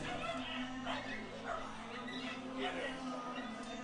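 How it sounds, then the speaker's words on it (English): Dogs barking and yipping in the stands at a minor-league ballpark during a baseball game, excited and fairly distant, mixed with crowd noise and a commentator's voice. "The dogs are going wild."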